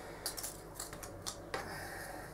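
A Descent dungeon tile has its lip trimmed with scissors, giving several quick, crisp snips up close followed by a longer, firmer cut, all faint and with no talking.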